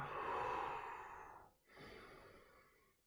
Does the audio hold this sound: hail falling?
no